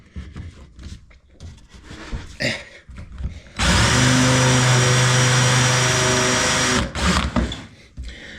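A power drill countersinking a hole in wood for a bed whirs loudly and steadily for about three seconds, then stops, with quieter handling noises before and after.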